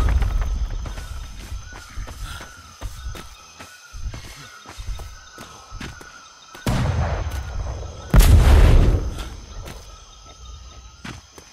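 Enemy gunfire in a shooter video game, scattered shots cracking at varying distance over a low rumble, with a louder burst of firing near the middle and a dense close volley after it.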